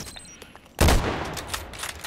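EBR sniper rifle firing in the video game Contract Wars, one loud close shot that booms and rolls off with echoing tail, preceded by quiet game ambience.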